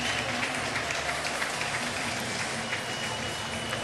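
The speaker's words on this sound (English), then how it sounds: "a big applause for Santana" A baseball stadium crowd at a Cardinals vs. Mets game applauds as Santana comes to bat, a continuous, distant wash of clapping and crowd noise without distinct individual claps.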